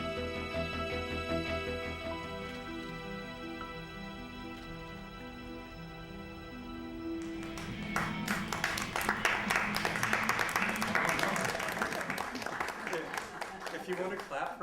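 An audience claps in a mixed burst of hand claps that swells partway through, rising over lingering music and voices and keeping up at a moderate level to the end.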